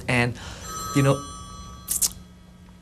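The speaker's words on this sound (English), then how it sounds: "that's the phone ringing here" A telephone rings in a hotel room with short, bright electronic trills near the end, while someone talks over the start of the clip.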